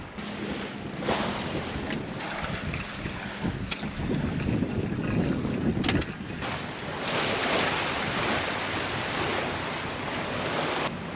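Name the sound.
sailboat under way in wind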